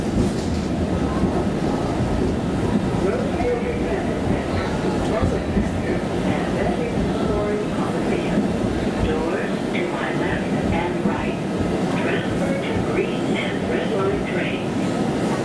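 A MAX light rail train runs at Rose Quarter station with continuous loud rolling and rumbling throughout, while an announcement voice plays over the rail noise.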